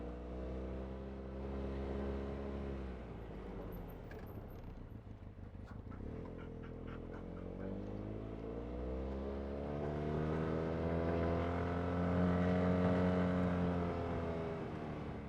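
ATV or UTV engine riding along a forest trail in Oneida County, Wisconsin, a steady close drone that rises and falls in pitch as the throttle changes, getting louder toward the end.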